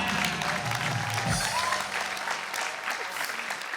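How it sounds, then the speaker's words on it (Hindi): Loud, steady applause from a live comedy-stage audience for a performer named Nitin, dense clapping filling the whole stretch with a low crowd murmur and a brief voice underneath. "जोरदार तालियां आगे नितिन के लिए।"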